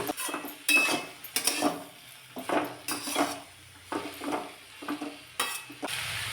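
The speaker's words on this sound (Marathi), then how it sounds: "आता एक दोन मिनटं तरी कोबी चांगला परतून घेते" A spatula scrapes and clatters repeatedly against a pan as cabbage is stir-fried over soft sizzling, in uneven bursts.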